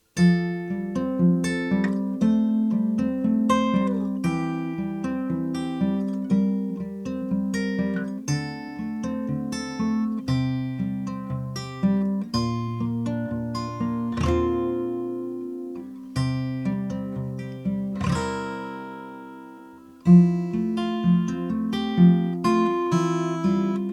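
A capoed guitar plays a picking-pattern B section, steady plucked arpeggiated chords ringing on with a lingering false resolution, moderately loud and alone, a brief pause near the end before the pattern resumes.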